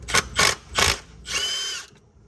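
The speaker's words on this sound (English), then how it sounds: "using my impact right here on the bottom," Impact wrench loosening bolts under a 2001 VW GTI during manual transmission removal: three short, loud hammering bursts, then one longer rattling burst, close up, with a brief quiet tail.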